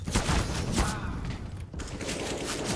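AK rifle gunfire in a Counter-Strike: Global Offensive tournament match on the Mirage map: dense, loud bursts of shots with overlapping rattling reports over steady in-game background noise.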